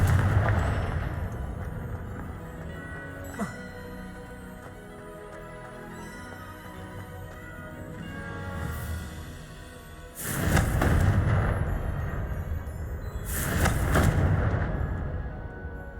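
Confringo blasting curse spells cast in Hogwarts Legacy, with two sharp, loud explosive bursts about three seconds apart over a low, rumbling game soundscape.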